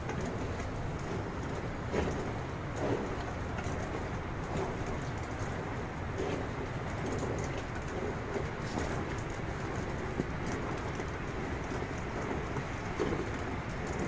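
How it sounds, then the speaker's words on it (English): Steady rain falls continuously as a dense, even hiss, with faint birdsong mixed into the background. "It was raining that time."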